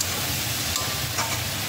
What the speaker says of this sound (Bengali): এবার একটু নাড়িয়ে নেওয়াই যাচ্ছে।